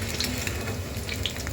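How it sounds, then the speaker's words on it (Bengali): Paneer pieces lightly frying in oil give a soft, continuous close sizzle with faint crackles, brief and steady with no voices over it. "এখানে ভাজা হয়ে গেছে, আমি খুবই অল্প মানে হালকা ভেজেছি।"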